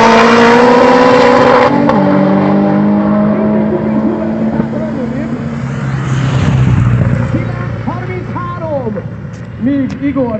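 A turbocharged Audi TT Quattro coupé with a 3.6 VR6 engine and HST tuning accelerates hard down a drag strip. The engine note is loud and sweeping, with rising whine and gear changes, and a crowd murmurs behind it.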